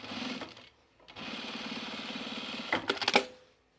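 Sewing machine stitching overalls fabric in short bursts, a quiet rapid mechanical chatter that pauses briefly, runs steadily, then ends in a few louder clacks.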